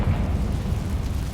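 A Confringo spell explosion in Hogwarts Legacy, a dense continuous low boom and rumble lasting the whole moment, fairly loud and close with no talking.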